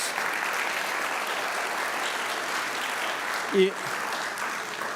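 A church congregation applauding during a sermon, a steady even wash of clapping from a crowd with a brief louder knock partway through.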